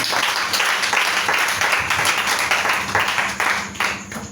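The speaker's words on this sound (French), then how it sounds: "Est-ce qu'on va acclamer Jésus?" A church congregation claps and cheers to acclaim Jesus, dense and steady applause filling the room at close range.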